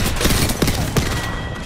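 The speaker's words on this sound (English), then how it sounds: "Bro, I'm getting shot from all angles." Rapid gunfire in a video game crackles in a quick burst of overlapping shots, loud and close, over a dense layer of background noise.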